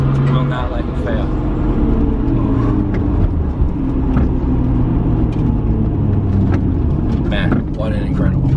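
A Nissan R33 Skyline GT-R engine pulls steadily while driving, a loud low rumbling drone running throughout beneath someone talking.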